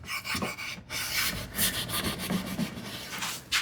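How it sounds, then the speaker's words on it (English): Steel wool rubs briskly over wood on a hand-built shoe tidy, a close, loud scratchy scrubbing in quick repeated strokes with a short pause near the start. "I'm going to come back with the same steel wool"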